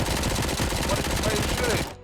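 Continuous loud rapid gunfire in the video game Robocop: Rogue City, a dense, relentless burst that cuts off abruptly at the end.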